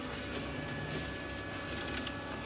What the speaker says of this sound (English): So the printer is a little temperamental sometimes, and it jams on a regular basis.